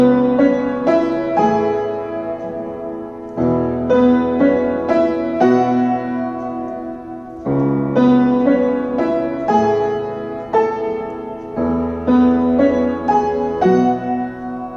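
Piano playing the Every Victory passage in E, with chords struck together in both hands in a slow, steady rhythm, each one ringing on before the next, close and clear with no talking.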